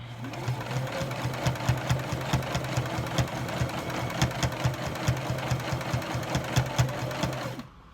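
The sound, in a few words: sewing machine stitching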